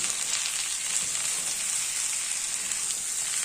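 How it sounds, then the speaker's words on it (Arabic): Chopped tomato fries in a pan with a loud, steady, close crackling sizzle throughout, and stirring strokes are faintly mixed in. No voice is present. "بقى معايا حبايه طماطم متقطعه اهي، هنقلب برضو"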